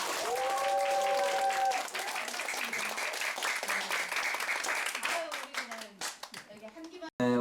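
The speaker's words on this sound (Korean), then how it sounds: "미션을 여러분들의 큰 박수로 시작하도록 하겠습니다" A studio audience at a Korean local news show claps warmly, the dense applause running under a voice and tones at the start before thinning out and fading near the end.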